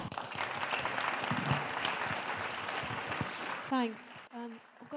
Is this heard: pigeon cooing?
no